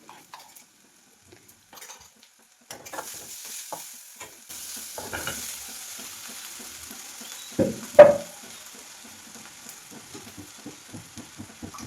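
Potato curry with turmeric and green chilli, ginger and garlic paste is stirred in a pan over a soft sizzle, with a spoon scraping and clinking against the metal in irregular bursts, one sharp knock standing out.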